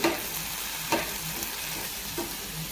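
Onion and ginger-garlic paste sizzling and sautéing in a pan with occasional stirring scrapes, steady and close, no talking.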